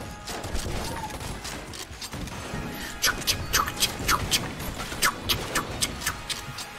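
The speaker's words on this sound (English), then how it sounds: "A lot of reloading sounds." Gun reloading clicks and mechanical clacks from the Enter the Gungeon video game, a rapid run of sharp metallic snaps over steady busy game noise, growing denser in the second half.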